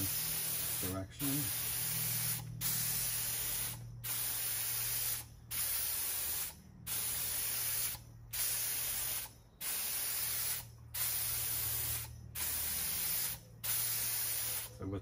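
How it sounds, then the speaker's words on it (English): Glaze sprayed from a spray gun onto textured slip-decorated pottery in a studio, from one direction; repeated hissing bursts of about a second each, separated by short pauses, close and steady. "I'm going to spray everything from this direction."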